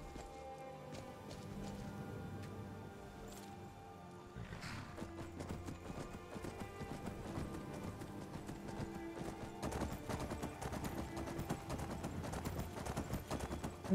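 Horse hooves clip-clop steadily in the video game Skyrim, with a whinny mixed in and a soft rain-like wash behind; the steps carry on evenly for the whole stretch, with no talking.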